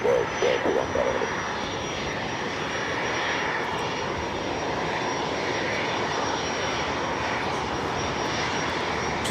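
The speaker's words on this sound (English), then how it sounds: "Just had the British Airways 777-300ER coming in from London Heathrow, flight 281." A British Airways Boeing 777-300ER arriving at Los Angeles International Airport from London Heathrow makes a loud, steady jet roar, with a brief voice at the start.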